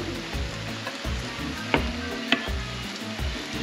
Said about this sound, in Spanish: Y ya las estoy friendo. Uno debe de estarlas volteando para que no se quemen.